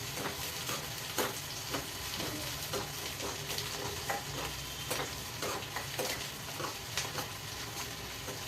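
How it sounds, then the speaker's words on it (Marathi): Onions sauté in oil with cumin and mustard seeds, a low sizzle under frequent ladle scrapes and taps that tick along steadily for several seconds, close and moderately quiet, with no voices. "कांदा चांगला परतून घ्यायचा"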